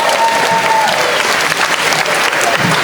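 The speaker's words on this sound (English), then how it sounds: "Give them another round of applause, please, Thomas and Larry." Audience at a school Grade 3 annual day applauding, a dense, loud, sustained wash of clapping from many hands throughout.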